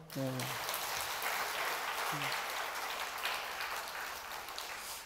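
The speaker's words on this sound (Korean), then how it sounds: "두 분 위해서 박수 한번 쳐주시죠" A Sunday worship congregation clapping for two people, a steady, moderately distant wash of applause, with a brief voice rising over it at the start and again around two seconds.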